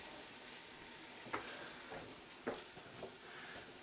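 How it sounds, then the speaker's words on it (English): Salted vegetables sautéing in a pan for tomato soup, a steady soft sizzle with a few louder crackles and stirring scrapes, heard alone and fairly quiet. "And saute that for a bit. Add a bit of salt."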